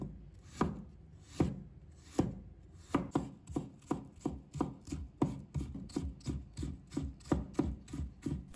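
A knife chops fresh ginger into shreds on a cutting board, first in a few slow, spaced strokes and then in a fast, steady run of crisp knocks.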